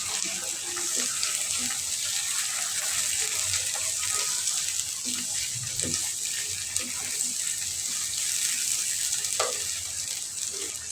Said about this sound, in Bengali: মুরগিটাকে একটু নেড়ে চেড়ে মিশিয়ে নিতেছি তেল আর পেঁয়াজের সঙ্গে।